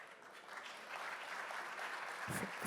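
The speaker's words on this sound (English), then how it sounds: "A big applause" Conference audience applauding as speakers are welcomed on stage at a tech summit, a steady wash of many hands clapping from across the hall, building slightly toward the end.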